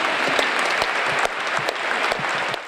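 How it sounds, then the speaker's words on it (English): Dense, steady applause from a large crowd honouring volunteers at an outdoor Living Stations performance, many hands clapping at once with sharper nearby claps standing out. "a round of applause to all our"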